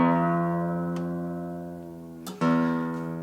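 An acoustic guitar holds one ringing note with a slow string bend for the opening of a riff, then a fresh pluck rings out near the end, close and clear with no voices.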